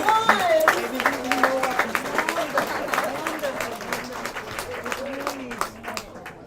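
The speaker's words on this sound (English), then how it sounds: "Let's please give them a warm round of applause." An audience at a livestreamed anniversary event applauds an Ecuadorian musical group, a broad wash of clapping that starts strong and slowly thins, with voices talking and calling over it.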